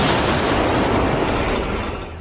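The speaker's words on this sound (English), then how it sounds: "The cannon fires a shell and the artillerymen lift another one." A 2S7 Pion self-propelled artillery cannon fires a shell, a loud, broadband blast whose roar and rumble fill the whole moment and slowly fade, close and without speech.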